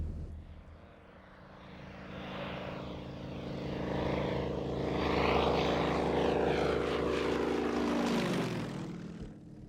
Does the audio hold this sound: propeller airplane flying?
yes